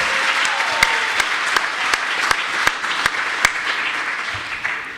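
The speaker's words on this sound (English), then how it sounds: "Give yourself a round of applause." Steady applause from a seminar audience at a cocktail-industry chemistry session, a dense continuous wash of many hands with a few sharper claps standing out, fairly close and even in level throughout.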